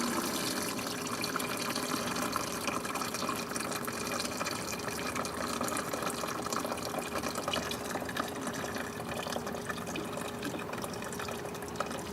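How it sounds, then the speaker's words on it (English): A continuous, steady pour of melted beeswax rendered from brood comb streams and splashes through a strainer, an even rushing sound with no pauses and no speech. "pour it right down through your strainer"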